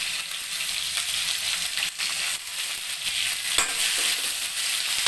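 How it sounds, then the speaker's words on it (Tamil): Onion and about twenty peeled garlic cloves sautéing in a pan for a chow chow kootu, a dense continuous sizzle with intermittent stirring scrapes, close and fairly loud, with no talking. "எல்லாமே நல்லா வதங்கட்டும்."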